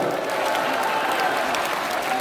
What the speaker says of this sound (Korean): 박수 한번 크게 치세요.